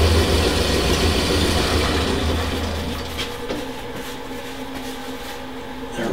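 Wood lathe spinning at about 2,000 rpm while finishing a bocote yo-yo with walnut oil, a steady close mechanical hum and whir with a low rumble that eases slightly partway through, no talking.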